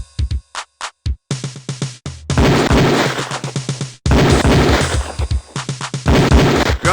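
Repeated gunshots fired on a police firing range in the Police Quest IV video game, starting as single spaced reports and building into dense rapid volleys, loud and close, with brief pauses between bursts.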